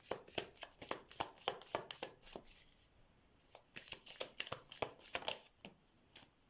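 Oracle cards being shuffled by hand at close range, crisp rapid riffling bursts in two runs separated by a brief pause, quiet and isolated with no talking.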